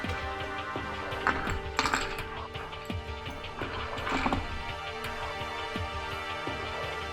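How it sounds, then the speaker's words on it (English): A few ice cubes clink and knock into a tall Collins glass holding a pineapple tiki cocktail, the Royal Peacock, as scattered sharp taps close by, two louder clatters standing out. "Add a few more ice cubes."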